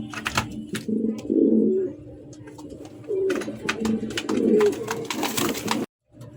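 Pigeons coo close by in a loft, deep throaty rolling calls repeating in several bursts, with scattered clicks, rustles and faint background chatter.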